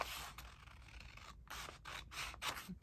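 Paper being cut with a cutter, crafting medieval-themed envelopes: a close run of short rasping, scratchy slicing strokes with brief pauses between them, and no talking.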